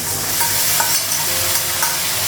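Potatoes and onions frying with a paste of ginger, garlic and ground cumin in water, a steady loud sizzle with occasional stirring scrapes and no voices.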